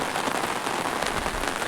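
Heavy monsoon rain pouring down in a village, a dense continuous hiss and patter of drops on surfaces, steady throughout the short stretch, with no talk.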